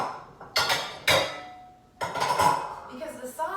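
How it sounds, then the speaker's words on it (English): A separate bowl is grabbed and set down in a kitchen, giving several sharp ceramic clinks and knocks with brief ringing tails, close and fairly loud. "So I'm gonna grab a separate bowl"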